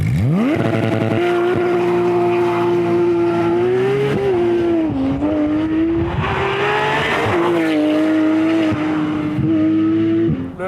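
A loud Porsche GT3 RS engine revs hard and climbs through the gears from a standing start, its pitch rising and dropping with each shift. It sounds close and continuous.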